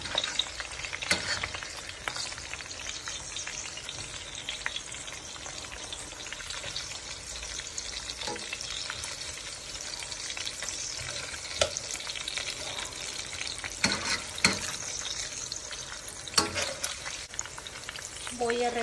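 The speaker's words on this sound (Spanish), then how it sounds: "La carne ya está frita con la misma grasita que soltó el tocino" Pork chops frying in rendered bacon fat, a steady dense sizzle with spitting crackles and occasional sharper pops running throughout, close and even in level with no talking.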